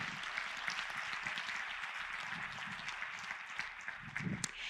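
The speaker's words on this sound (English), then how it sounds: "So let's give them a round of applause." A crowd at a civic gathering in Harlingen applauds builders in a continuous, moderately loud wash of clapping that holds steady from start to finish, with a few sharper claps near the end.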